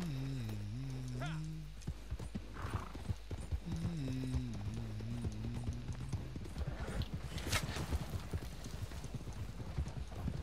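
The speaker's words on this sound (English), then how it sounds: "I'll slow the horses down" Horse hooves clip-clop in Red Dead Redemption 2, a steady gallop under game music and whinnies, while a person talks over the action.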